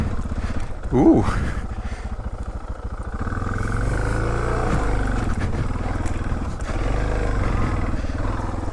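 A Suzuki DR650 motorcycle engine rumbles steadily nearby while riding off-road, loud and continuous, with a brief exclamation from a voice early on.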